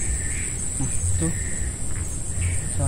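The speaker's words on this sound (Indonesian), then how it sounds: "Tuh suara burung gagak teman-teman." Crows caw a few times, faint and distant, over a forest near an old graveyard, against a constant high insect drone, with a voice speaking softly nearby.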